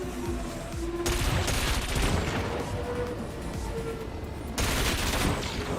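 Cannon weapons fire in the futuristic racing game Wipeout Omega Collection, rapid bursts of repeated shots over engine roar, with two louder volleys about a second and four and a half seconds in.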